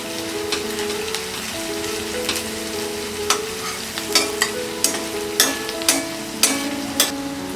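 Sliced onions sizzling in oil in a pan with turmeric powder as they are stirred together: steady frying hiss underneath, with regular scraping and clacking strokes of the spoon against the pan, close and loud, no voices.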